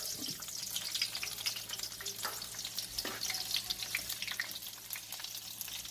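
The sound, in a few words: fish frying in oil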